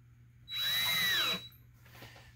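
A power drill drives a screw into a 3D printed bat house in one steady whirring burst of about a second, close and fairly loud, followed by quiet.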